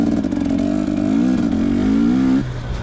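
A motorcycle engine revs on an off-road OHV trail, a loud close mid-pitched drone that rises in pitch and then drops back to idle near the end, no voices.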